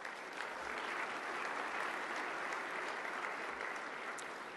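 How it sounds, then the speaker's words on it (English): Steady, dense applause from a large audience at a regional chamber of commerce annual meeting, continuous and even throughout, with no voices standing out. "Please give them a big round of applause."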